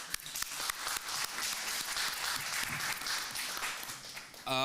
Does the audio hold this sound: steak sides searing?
no